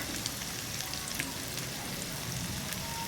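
Ground spices (turmeric, chilli powder, Kashmiri chilli, salt, cumin) frying in oil in a pan for a Bengali rohu fish curry, a steady low crackle and hiss throughout, fairly faint and close, with no talking.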